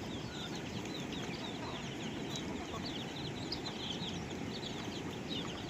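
Pet chickens cluck and chatter continuously at feeding time, a busy flock of overlapping clucks at moderate distance with occasional wing flutters, recorded without anyone speaking.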